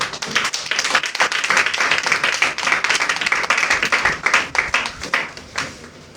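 A church congregation claps to acclaim the Lord, with sharp, rapid handclaps close by that ripple in uneven bursts, occasionally pulsing in rhythm before thinning out.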